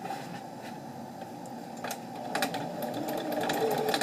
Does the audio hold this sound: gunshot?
no